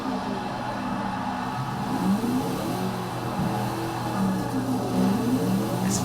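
Dodge Charger drift build in Forza 6 revving hard under heavy throttle, a loud continuous engine roar with wavering pitch as the car slides.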